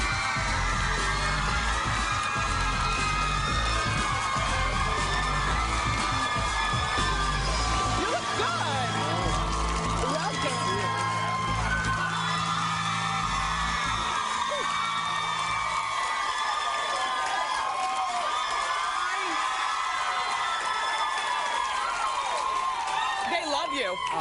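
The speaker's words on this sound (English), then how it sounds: "I guess you never get tired of screaming girls." A TV talk show studio audience, mostly girls, screams and cheers for a guest Broadway singer in a loud, continuous wall of shrieks and whoops, with people talking over it.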